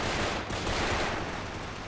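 Rapid bursts of gunfire in the online shooter Brick Force, dense and loud throughout with no talking.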